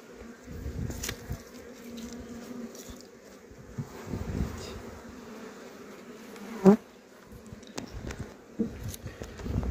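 Italian honey bees buzz at an open hive in spring, a dense steady drone close by, with soft handling knocks and scrapes from frames being checked.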